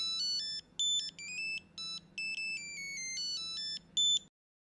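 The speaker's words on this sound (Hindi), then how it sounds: "ताई का फोन।" A telephone rings with a bright electronic melodic ringtone, repeating short bursts of tones in a steady pattern before cutting off, clear and alone with no talk.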